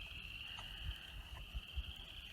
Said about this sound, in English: And the frogs down there are chirping.